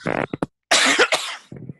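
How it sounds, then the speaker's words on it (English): A person coughs several times up close, a short burst followed by a longer harsh cough and a softer one at the end. "So I'm going to cough now"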